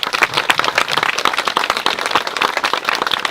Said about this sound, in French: Je vous demande à nouveau d'applaudir le professeur Reeves